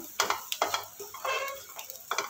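Bitter gourd frying in a pan crackles and sizzles under repeated stirring strokes, with utensil scrapes and taps coming in uneven bursts, close up and without talking.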